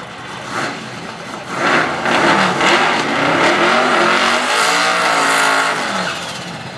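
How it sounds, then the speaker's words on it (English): A drag race car's engine roars loudly and steadily at Thunder Road Raceway Park in Shreveport, Louisiana, tires screeching in a sustained burnout with rising and falling revs, no voices. "Completes his burnout and heads towards the starting line."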